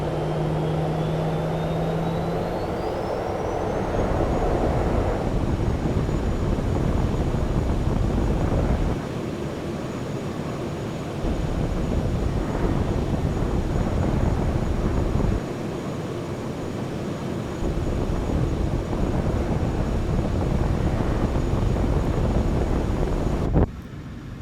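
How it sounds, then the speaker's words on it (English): Simulated jet engine blast from an airliner in Microsoft Flight Simulator 2024, heard from the external view as a loud, continuous roar with a rushing, wind-like texture and slight surges in intensity. "so you can hear that engine blast behind your engines in the external view"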